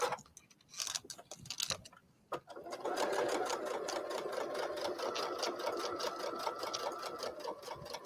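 A sewing machine stitches a coaster with a fast, steady mechanical whir and needle ticking, close and quiet after a few brief starts and stops.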